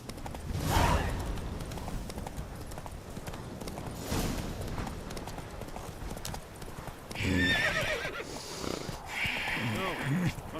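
A horse in The Witcher III gallops with rapid clip-clop hoofbeats and lets out loud neighs and whinnies, while someone speaks briefly over the hooves.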